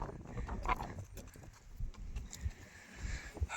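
A young filly's hooves clip-clop in an uneven walking rhythm while she is being ridden, the steps close and fairly soft over outdoor background noise, with no talking.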